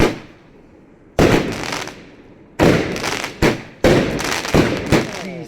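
Thunder King Cosmic Fireworks 1.3G shells burst in a series of loud, close explosions, several sharp blasts with crackling tails spaced a second or so apart.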